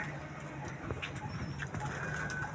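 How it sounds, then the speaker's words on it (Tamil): Black karna pura pigeons coo in a loft, with low, repeated throaty coos close by and occasional faint chirps and rustles in the background. "இந்த பிளாக்காக இருக்க புறாக்கள் எல்லாமே கர்ணப்புறா தான்."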